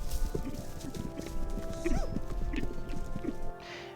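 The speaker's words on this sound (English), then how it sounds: "they're just beautiful horses anyway" Friesian horses in Michigan move with an irregular clip-clop of hooves on hard ground, fairly close and moderately loud, with some faint higher-pitched horse sounds mixed in.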